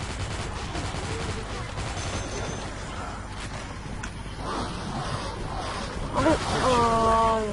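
Rapid gunfire bursts from the shooter video game Dead Trigger 2 crackle and pop under excited players' voices talking throughout, with a louder, denser burst near the end.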